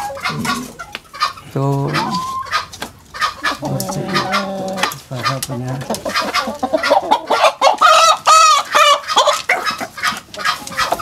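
A bekisar, a green junglefowl and chicken hybrid, clucks and calls in bursts close by, mixed with other fowl sounds, while people talk over it.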